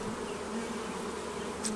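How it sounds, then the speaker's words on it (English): Honey bees buzzing around a hive during installation of a nucleus colony, a steady close hum of many bees, continuous and moderately loud. "so bees are in there."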